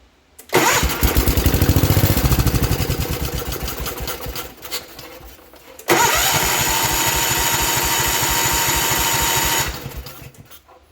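The engine of a 1972 Gravely 432 tractor, fed ether, starts with a loud rapid chatter, runs briefly, fades and dies, then catches again and runs steadily at close range before cutting out.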